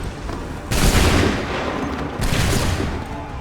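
Musket volleys from the Assassin's Creed III game, two loud, dense crackling bursts of massed gunfire, the first longer, the second starting after a pause, over a steady noisy battlefield background.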